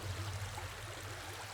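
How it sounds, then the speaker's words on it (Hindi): Steady, low rushing of water from a nearby river or stream, a continuous soft wash with no distinct splashes, heard alone. "पानी की आवाज लगती है।"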